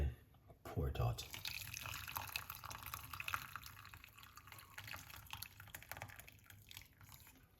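Liquid pours and trickles into a cup in a home kitchen while making a honey drink, a faint running splash with a few drips and a brief louder knock near the start.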